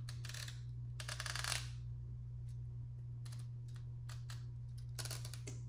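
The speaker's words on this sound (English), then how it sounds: "It's a firm ring, but a clicky sound." A Canon AE-1 film camera's ring is turned, giving a few scattered, quiet mechanical clicks and short ratcheting bursts over a steady low electrical hum, close by.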